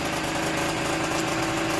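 Peugeot Elystar liquid-cooled two-stroke scooter engine running steadily at a high-pitched buzzing idle, loud and close, with no breaks or voices.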